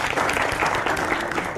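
Dense audience applause during a political speech, continuous clapping filling the short stretch at steady loudness, close and busy with no pauses.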